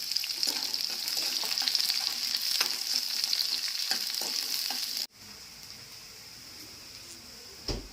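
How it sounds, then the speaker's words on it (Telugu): Onion pieces fry to golden in a pan, a close, busy sizzle with stirring scrapes that drops abruptly to a quieter steady frying hiss, with no talk. "ఒక అరపప్పు ఉల్లిపాయ ముక్కలు దోరగా వేయించుకోవాలి"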